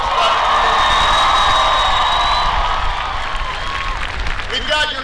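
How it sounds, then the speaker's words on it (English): Large political rally crowd in Virginia applauding and cheering loudly and steadily, a dense wash of clapping with shouts and whoops mixed in that tapers slightly toward the end. "round of applause for the great introduction."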